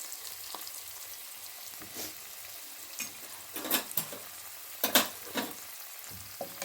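Paneer cubes roasting in a hot pan for butter paneer, a soft continuous sizzle with several sharper crackling bursts and stirring scrapes, close and clear with no talk.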